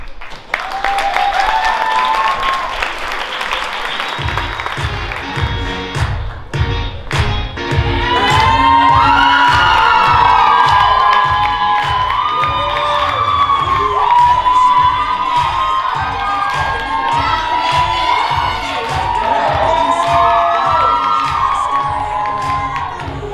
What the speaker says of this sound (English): give them one final round of applause